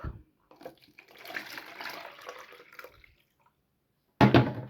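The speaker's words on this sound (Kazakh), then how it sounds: "мына жерден екеуінің суын шықты, құяйық" Brine drained from marinated cabbage pours in a close, trickling splash for a couple of seconds, falls silent, then gushes briefly again at the end.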